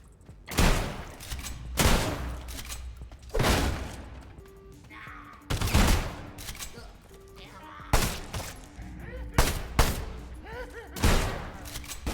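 Shotgun blasts in the game Sulfur, fired in the sewers: a series of loud, booming shots spaced roughly a second or two apart, each with a short echoing tail, with someone talking between them.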